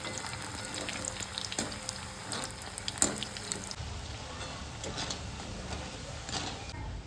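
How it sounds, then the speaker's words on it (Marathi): Dal batti dough balls frying in oil, a steady bubbling sizzle with occasional soft clicks and spatters, close and even throughout. "ह्याला आता मी तेलामध्ये फ्राय करते."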